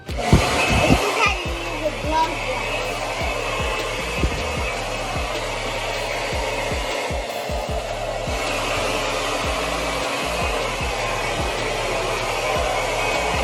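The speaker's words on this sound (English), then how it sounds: "First, we blow dry, okay?" A hair dryer blows hair dry, a loud steady roaring whoosh that runs continuously throughout, with faint background talk and some handling thumps.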